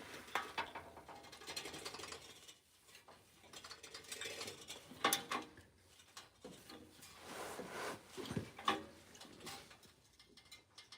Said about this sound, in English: don't look at me hit my ratchet